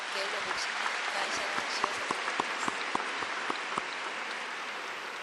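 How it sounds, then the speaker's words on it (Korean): A church congregation applauds at a Full Gospel world mission day service, a steady, dense wash of many hands clapping that carries evenly through the whole stretch, with a few sharper individual claps standing out. "감사의 박수를 올려드립니다"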